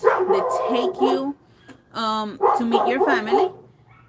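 A dog barks and yelps a few times in the middle, heard between and under nearby conversation in an indoor waiting area aboard a cruise.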